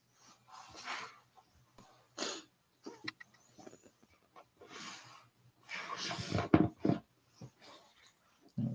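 Soft, scattered puppy whimpers and small yelps, several short bursts with pauses between them, close by and fairly quiet.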